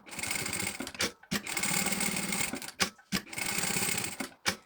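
A sewing machine topstitches fabric in three quick bursts of rapid, rattling stitching, each separated by a short pause, close and clear with no talk.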